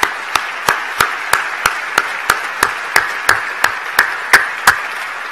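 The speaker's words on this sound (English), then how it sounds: "if we could offer him a round of applause in tribute to his service" Applause honoring a Deputy Secretary comes through as a few loud, isolated claps in a slow, steady, evenly spaced rhythm, close by and standing out against a quiet background.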